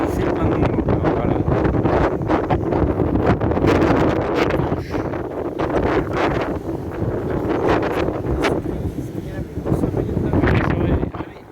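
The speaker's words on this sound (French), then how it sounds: "Bon, il y a du vent, il y a du vent." Wind blowing hard outdoors at a crowded seaside in late August, a loud continuous buffeting roar across the microphone with rustling gusts, while someone talks throughout.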